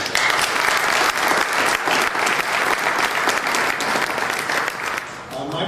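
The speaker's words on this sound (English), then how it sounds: "a big round of applause" An audience at a military retiree seminar breakfast bursts into loud, sustained applause, dense clapping that carries evenly for several seconds before tapering off at the end.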